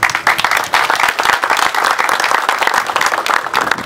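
Crowd clapping at the inauguration of a beachfront tourist site, crisp individual claps forming a lively, steady round of applause close by, with no speech over it.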